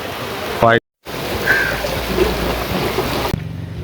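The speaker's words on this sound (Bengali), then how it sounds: "মুসলধারে বৃষ্টি হচ্ছে" Heavy rain pours down outdoors near the BRTA office in Bogura, a dense steady hiss that fills the scene, cut by a brief silent gap early on and a sudden drop in intensity near the end.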